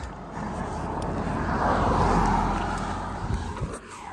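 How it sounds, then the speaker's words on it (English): A large truck rolls past outdoors, a broad rumbling roar that swells to a peak around the middle, then fades away, with steady low engine drone and no voices. "So that truck just passed."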